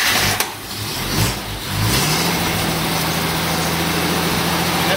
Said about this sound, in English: So this is a cold start. We're in neutral. Handbrake's on. I pulled the choke out a little bit.